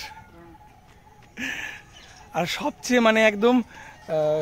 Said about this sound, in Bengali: সব আওয়াজকে ছাপিয়ে ময়ূরের ডাক